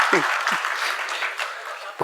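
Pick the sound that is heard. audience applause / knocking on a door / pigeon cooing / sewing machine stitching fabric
audience applause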